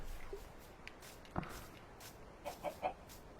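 A few chickens clucking softly nearby, short low calls scattered with a quick cluster of three near the end, over light rustling.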